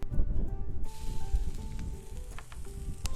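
A smoked New York strip steak sears on a hot griddle in a reverse sear, giving a steady close sizzle and crackle with a few sharper pops, and no one speaks.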